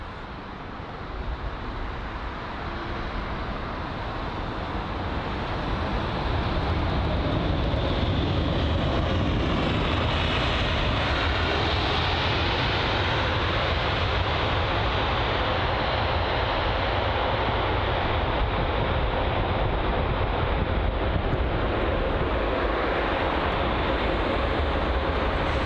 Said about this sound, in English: The American Airlines Boeing 787 Dreamliner.